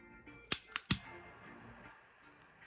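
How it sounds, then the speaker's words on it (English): A lighter flicked to melt and seal the end of paracord, three sharp clicks in quick succession followed by quiet, with one more faint click at the very end. "just take that lighter"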